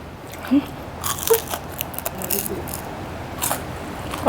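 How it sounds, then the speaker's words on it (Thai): Crispy deep-fried Thai spring rolls being bitten and chewed up close, a handful of sharp crunches spaced out over a quiet background. "ห่อปอเปียแล้วก็กินปอเปียตอนเที่ยงคืน อร่อย"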